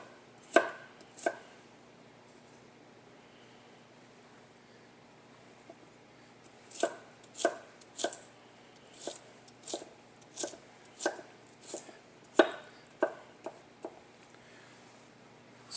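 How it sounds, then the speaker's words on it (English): A knife dices onion, carrot and celery sticks on a cutting board, giving crisp chopping taps close by: two early strikes, then a quiet gap, then a quick, uneven run of cuts, with no talking. "And then we'll cut those sticks into dice."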